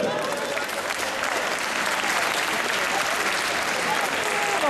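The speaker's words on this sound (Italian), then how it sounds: "Ho bisogno che voi le accogliate con un grande applauso" An audience at a live show in Sicily applauds to welcome a band, a dense, steady wash of clapping that holds throughout and sounds like a sizable crowd.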